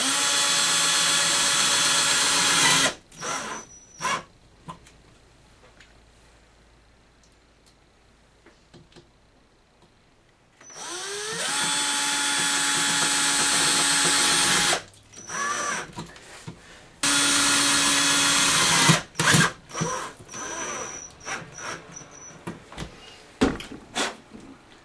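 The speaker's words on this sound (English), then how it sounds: "we're going to drill it straight on to the frame of our solar panel" A power drill bores straight into the metal frame of a solar panel for a portable 420 watt generator, in three loud sustained bursts with whining motor tones, separated by quiet pauses and clicks.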